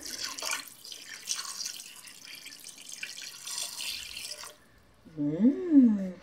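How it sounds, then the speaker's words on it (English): Chicken broth poured over chicken in a crockpot, a short close liquid pour and splash near the end after a quieter stretch of faint kitchen sounds. "So pour the chicken broth all over, just like so."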